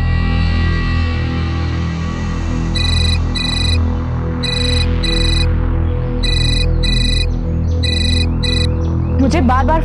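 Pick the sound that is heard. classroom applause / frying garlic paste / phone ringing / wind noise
phone ringing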